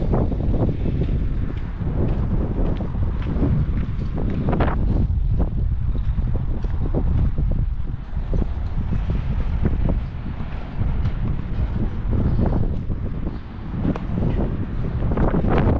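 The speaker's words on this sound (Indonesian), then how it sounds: "Anginnya juga kencang." Strong wind blowing outdoors on a hot afternoon, a steady loud rumbling buffet across the microphone with gusty swells, alone without talk.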